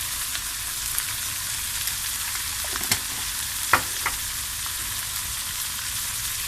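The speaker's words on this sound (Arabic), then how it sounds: "هتتشوح شويه ولما تخش على سوا هحط عليها الفلفل" Food sautéing in a hot pan for a pasta casserole, a steady close sizzle throughout with a few sharper crackles and pops near the middle.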